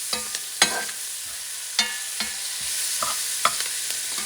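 Spoon scraping and stirring tomato paste into onions in a hot pan for braised halal beef shanks, with a series of close, sharp clacks over a soft sizzle, no talking.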